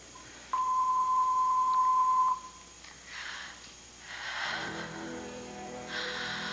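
An answering machine beep sounds as one steady, loud electronic tone lasting about two seconds, followed by soft rustling and breathy noises in a quiet room.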